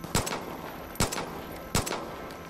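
Three spaced single gunshots from the video game Far Cry 5, each a sharp crack with a short tail, fired at a steady pace over a low background hum.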